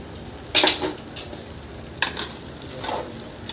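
Ground spice powder being stirred into mutton kulambu in a pot, with three short scraping spoon strokes against the metal over a faint simmer and no talk.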